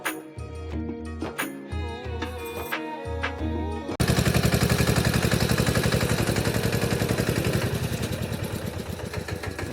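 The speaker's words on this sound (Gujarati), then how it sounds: "આવું ભાઈ નાનું ટ્રેક્ટર છે મસ્તનું" Small farm tractor engine running loud and close with a rapid steady chugging rhythm, following a few seconds of music.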